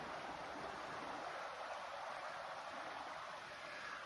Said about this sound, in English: A little bit of rapids down in here.